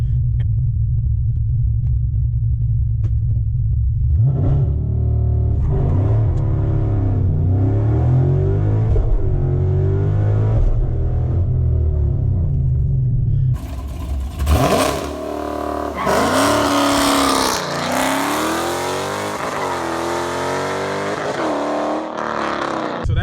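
A car launches hard at 4,500 rpm with tires spinning; a deep idle rumble climbs into a loud, rising engine roar that swells sharply midway and keeps revving close by.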